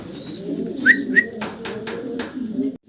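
Domestic pigeons, including a large black feather-footed bird, coo softly and repeatedly nearby with a few sharp clicks and taps in between and no talk.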